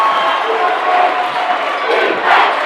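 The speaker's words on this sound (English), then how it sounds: "And the North Daviess crowd over there. We're about 150 strong over there. They are up and fired up." A basketball home crowd of about 150 North Daviess fans roars steadily through the gym, a dense continuous wall of cheering and shouting that swells near the end, with no clear talk on top.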